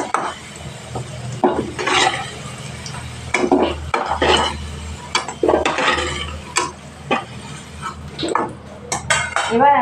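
Fried potatoes are scooped from a pan into a bowl with clattering, scraping utensil strokes and clinks of metal on cookware, over a faint sizzle, close and irregular.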